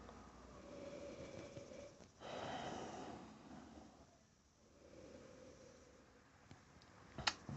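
A wine taster gives a glass of New York Dr. Frank Rkatsiteli white wine two long, soft sniffs close to the microphone in a quiet room, followed by a small clink near the end.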